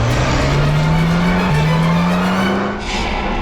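Car making a quick U-turn, a close, loud engine note rising steadily as it revs, with tire noise and a brief dip near the end.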